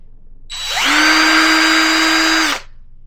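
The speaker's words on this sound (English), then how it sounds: "I have drilled some pilot holes for my ball joints." A power drill bores pilot holes for ball joints while a custom Kakamora figure from Moana is being built. The drill winds up and runs at a steady, loud pitch for about two seconds, then stops abruptly, with no talk.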